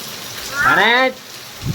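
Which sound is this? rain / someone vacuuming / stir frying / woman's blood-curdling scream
rain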